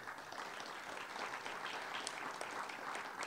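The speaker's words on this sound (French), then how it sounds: "Vous pouvez l'applaudir." Faint, distant applause from members at a municipal council installation session, a soft, even rustle of clapping hands sustained briefly without speech.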